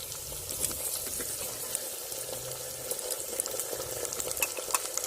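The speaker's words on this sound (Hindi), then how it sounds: "प्याज और हरी मिर्ची जो है वो फ्राई हो चुके हैं। अब डालेंगे टमाटर।" Tomatoes added to onions and green chillies frying in a pan: a faint, steady sizzle with soft stirring scrapes and light crackles, no talk.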